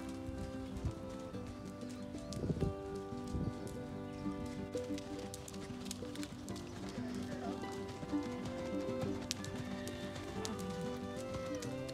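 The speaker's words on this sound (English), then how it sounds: "She's got a powerful canter too" An off-track Thoroughbred mare canters on the left lead during a schooling ride, her hoofbeats thudding in a steady, rolling rhythm at moderate distance, with a voice at times over them.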